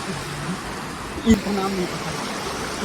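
A river stream rushes steadily nearby at a roadside stop during a motorcycle ride to Pali, a constant broad wash of water with a brief louder bump midway and voices talking faintly over it.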